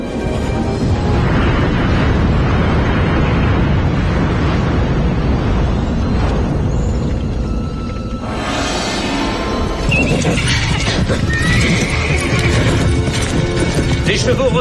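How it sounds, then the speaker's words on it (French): Horses whinny and neigh loudly as they balk and refuse to go further, with hoof clatter, crashing effects and dramatic background score through a tense adventure scene. "Les chevaux refusent d'aller plus loin."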